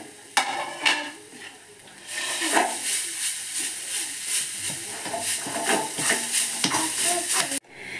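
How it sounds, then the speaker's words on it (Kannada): Grated coconut frying in a pan for a flax seed dry chutney powder, with a steady sizzle and hiss broken by scraping stirs and clinks of a utensil against the pan, close up. "ಕೊನೆಯದಾಗಿ ನಾನಿಲ್ಲಿ ತೆಂಗಿನ ತುರಿಯನ್ನು ಕೂಡ ನಾನು ಸ್ವಲ್ಪ ಫ್ರೈ ಮಾಡ್ತಾ ಇದ್ದೀನಿ"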